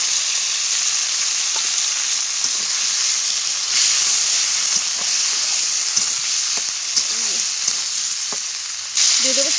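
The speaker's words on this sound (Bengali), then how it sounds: "এবার মাছ ভাজার তেলের মধ্যে আলু আর সিমগুলো একটু ভেজে নেব" Potatoes and flat beans frying in oil left over from frying small fish, a loud continuous close sizzle with occasional light stirring clicks, no one talking.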